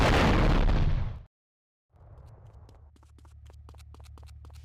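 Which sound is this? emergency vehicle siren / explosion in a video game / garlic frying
explosion in a video game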